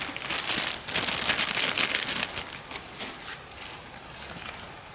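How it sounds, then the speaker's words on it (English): Plastic bags crinkle and rustle continuously up close, loud at first and easing slightly toward the end. "Inside another plastic bag,"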